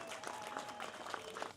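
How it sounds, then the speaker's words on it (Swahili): Audience applause at a public gathering, a faint, distant patter of many hands that holds steady through a short burst and thins at the end. "tuwapigie makofi mengi sana"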